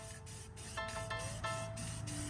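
Spray can painting a wheel caliper on a squarebody dually truck, short repeated hissing bursts close up, with a faint tonal hum in the background.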